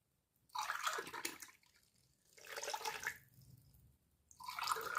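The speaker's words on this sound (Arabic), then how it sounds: "بالنسبه للماء فانا غادي ندير 3 كيسان ديال الماء، ماء دافئ ضروري يكون دافئ" Warm water being poured into a dough mix with yeast and orange blossom water, three long splashing pours with short pauses between them, close and fairly steady, with no talking.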